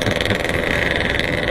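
Motorcycle engine and loud exhaust on a road near Surade, Sukabumi, a dense, steady buzzing roar, loud and close throughout.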